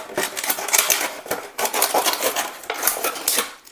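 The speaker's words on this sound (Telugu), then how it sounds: "ఇంకో బాటిల్ తీసుకొని ఇదే విధంగా సగానికి ఇలా కట్ చేసుకుంటున్నాను" Plastic bottle being cut in half with a knife in a kitchen, giving dense crackling, crunchy scraping in short bursts with brief pauses, close and fairly loud, no talking.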